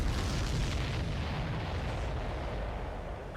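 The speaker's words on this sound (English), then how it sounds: "keep a safe distance to avoid getting caught in the explosion" A missile explosion in the Ace Combat 7 video game, a heavy low booming rumble that rolls on for about three seconds at steady loudness, with no voices.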